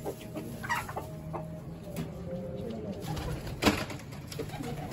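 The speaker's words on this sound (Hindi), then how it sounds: "ये नई मुर्गियां पुरानी मुर्गियों के साथ यहाँ पे कुश्ती कर रही हैं।" Backyard chickens clucking as new hens scuffle with older ones, with dove-like cooing mixed in: steady close clucks and occasional sharper squawks across five seconds, without clear speech.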